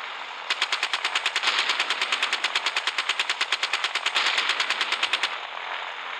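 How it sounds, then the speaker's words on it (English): Rapid machine gun fire in a gunship battle video game, a loud steady burst of evenly spaced shots lasting about five seconds over a constant engine drone. "We only got machine gun ammo."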